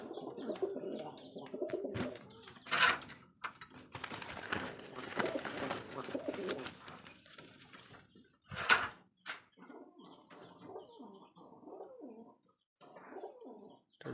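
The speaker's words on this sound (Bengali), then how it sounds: "তিন পিস রাজশাহী গিরিবাজ," Three male Rajshahi Giribaj pigeons cooing close by in soft, rolling bursts, with occasional wing flutters and small rustles between calls.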